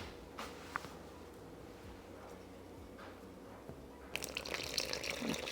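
Lime water is poured over dry corn, starting as a sudden rush of liquid near the end after quiet handling noises. The pour is close and steady and fairly loud against the quiet before it.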